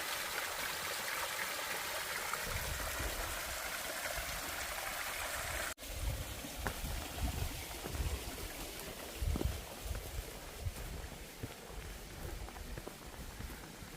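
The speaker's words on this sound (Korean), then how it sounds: "계곡 이쪽으로 물 잘 흐르고 있네요." A mountain valley stream flows steadily close by, a continuous broadband rushing and trickling with brief louder splashes, alone with no talk.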